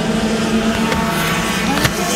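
Racing karts in the final of a national student kart race, rounding the last corner: a steady, loud, buzzing engine whine holds throughout, with a brief tyre-scrub squeal near the end.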